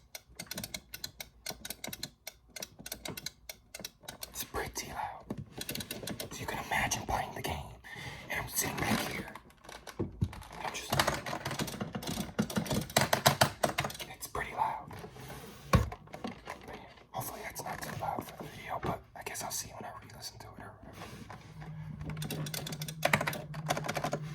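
Dense, continuous clicking of arcade buttons goes on for a long stretch, fast and uneven. The clicks are sharp and close, with busy flurries throughout.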